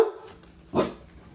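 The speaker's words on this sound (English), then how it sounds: "my dogs are going to bark about something going on out in the front yard" Dogs barking at something in a front yard, two short barks about a second apart, moderately close with quiet room tone between them.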